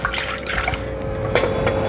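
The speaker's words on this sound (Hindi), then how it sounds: "तो मैंने ये डाल दिया है कढ़ी में पानी" Water poured into besan and yogurt in a kitchen while making Gujarati kadhi, a brief liquid splashing and trickling with a louder splash near the end, close and alone.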